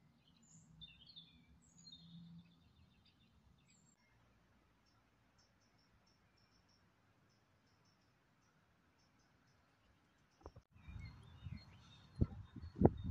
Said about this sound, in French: Vous entendez les oiseaux derrière?